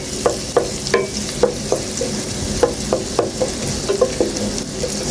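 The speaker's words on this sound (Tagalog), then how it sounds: "magbabrown yung bawang doon sa butter bago natin ilagay yung sibuyas" Garlic browns in butter in a pan with a soft continuous sizzle, broken by a series of sharp clicks and scrapes from stirring at irregular intervals, close and clear with no talk.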